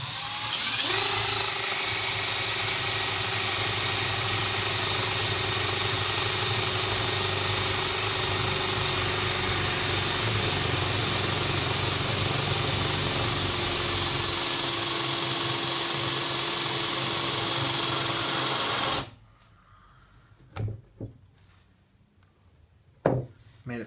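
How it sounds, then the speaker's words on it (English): A power drill bores through the thumb hole of a bowling ball, its steady high whine droning loud and close for about nineteen seconds before cutting off, followed by a few sharp knocks. "So now I'm just going to start drilling."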